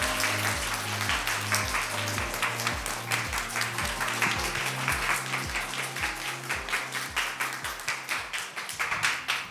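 A crowd at a game user meetup claps steadily for nearly ten seconds to welcome the game's producer, the dense applause holding near and loud with a slight easing toward the end.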